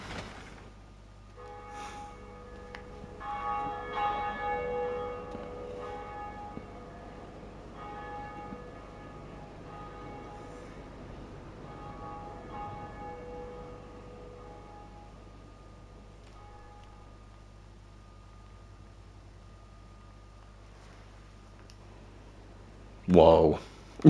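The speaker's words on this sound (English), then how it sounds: "I like all the cutscenes to do with the bells." A deep church-style bell tolls during a cutscene in the Dark Souls video game, its resonant peals ringing out and fading over a long stretch, with a louder burst near the end and talk heard at times.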